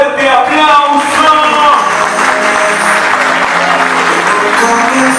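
A wedding party crowd applauds loudly and continuously, with scattered cheers over the clapping, while music plays underneath.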